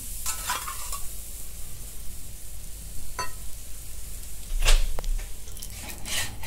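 Batter spread across an oiled pan for a Maharashtrian dish fries with a steady soft sizzle, broken by a few sharper scraping and clinking stirs near the middle and end, close and moderately loud, with no talk.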